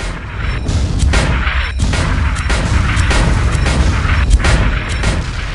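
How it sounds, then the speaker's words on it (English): A mortar firing at an enemy airship in the video game Guns of Icarus, with repeated heavy booms and blasts over a dense, loud wash of game noise and rumbling mechanisms. "Get on the mortar and finish the piece of junk off."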